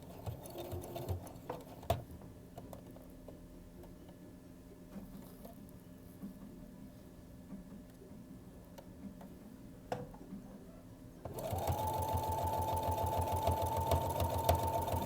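A sewing machine stitching fabric forward starts up about two-thirds of the way through with a steady, close mechanical whir and rapid needle chatter, after quieter handling clicks and ticks.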